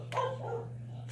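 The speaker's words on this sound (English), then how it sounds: "I am sorry about the dogs, they are very annoying." A dog gives a single short, faint bark indoors against a steady background hum, with no voices.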